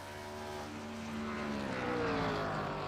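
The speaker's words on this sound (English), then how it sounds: "You can hear these cars really screaming through the RPMs up off the corner" ARCA race car engines rev in the distance at Hickory Motor Speedway, screaming up through the RPMs off the corner, their whining pitch climbing steadily as they accelerate, fairly faint and with no voices.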